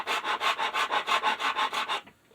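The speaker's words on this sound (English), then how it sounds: "I've got to be constantly adjusting the file back this way and that way to make sure I'm cutting it flat more or less" Hand file rasping a bevel into a wooden part for a curved tri-tail tuner, about twelve steady back-and-forth strokes in even rhythm, close and clear, then stopping; no talk.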